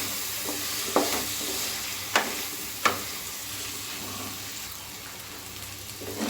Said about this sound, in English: So with this paste, now we have to saute for